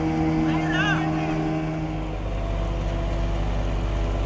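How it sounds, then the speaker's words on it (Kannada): A small motorboat engine drones at sea, a steady, loud, humming rumble that holds constant throughout, with a brief voice rising above it early on. "ಚಿಕ್ಕ ಬೋಟ್"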